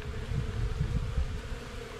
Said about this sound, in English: That's the bees from the yellow hive, which I have next door